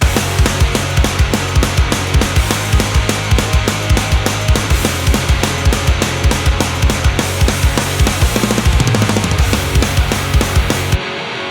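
Distorted electric guitar through a JCM 800 amp simulation, playing pop punk rhythm parts in a full mix with drums, loud and driving with steady palm-muted chugs before stopping abruptly.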